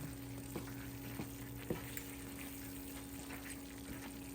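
Leche halaya made with condensed milk cooks in a pan with a soft, continuous bubbling sizzle, punctuated by a few light knocks of a spoon stirring, close and quiet.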